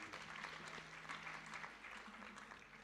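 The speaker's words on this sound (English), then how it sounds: "May we clap for them?" Quiet, steady clapping from a conference audience thanking panelists at an annual procurement summit, evenly spread and faint with no voices on top.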